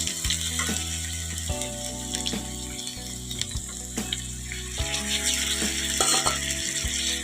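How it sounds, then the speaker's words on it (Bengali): Onion and garlic with cumin fry in a pan with a steady sizzling hiss, broken by the scrape and clatter of stirring, with no voices. "দেখো পেঁয়াজ আর রসুনটা দিয়ে দিলাম ভালো করে একটু ভাজা হয়ে গেছে দেখো"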